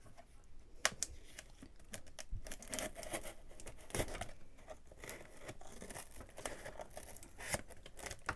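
Plastic packaging on a boxed Athearn GP40-2 model locomotive is cut open, giving continuous close crinkling, snipping and tearing rustles with irregular sharper snaps, no voices.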